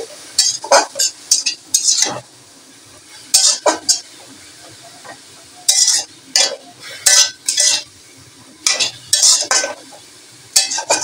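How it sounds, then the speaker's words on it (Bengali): Khesari greens with turmeric stirred in a pan, repeated bursts of a spatula scraping and clattering against the metal over a faint sizzle, close and rhythmic, with no talk. "এবার এই হলুদ দিয়ে এইভাবে কিন্তু আমি নাড়াচাড়া করব।"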